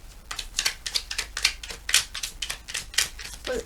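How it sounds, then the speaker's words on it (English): A deck of tarot cards is shuffled by hand in a rapid series of about a dozen crisp riffling flicks and taps, close and fairly clear, with no talking over it. "I can't seem to shuffle."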